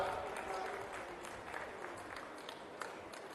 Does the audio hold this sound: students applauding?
yes